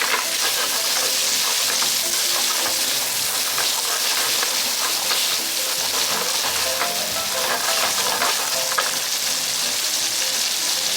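Squid legs frying in olive oil over a high flame and being stirred in a pan, a loud, dense, continuous sizzle with crackling spatter and occasional scraping, close up with no talking.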